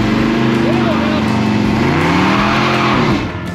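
Mopar muscle car lighting up its tires while leaving a car show, loud continuous engine roar with rising revs and squealing tire tones, crowd voices talking over it throughout.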